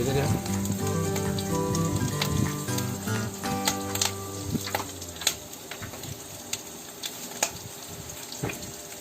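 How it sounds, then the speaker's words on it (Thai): Chilled white rice stir-fried in hot oil, a steady sizzle with scraping stirs and light clinks of the utensil against the pan, close up, while someone speaks softly in Thai. "เอาข้าวขาวนะคะที่แช่เย็นเรามาผัดเป็น ผัดได้เลยนะคะ"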